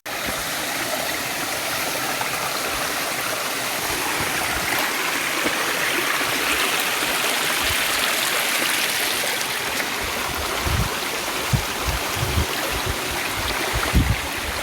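Steady, loud rushing water at the top of the Champagne River falls in Saint Ann, Jamaica, a continuous broadband roar with a few low thumps and splashes toward the end.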